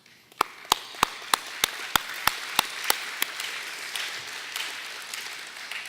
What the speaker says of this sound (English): please stand up and let's give you a round of applause